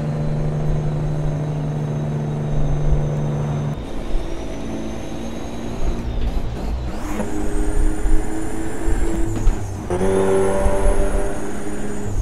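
Freightliner Classic Flattop truck engine in American Truck Simulator, Idaho map, drones steadily close up, with the revs climbing and dropping several times as if shifting through gears, alone with no talk.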